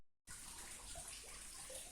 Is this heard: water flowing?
yes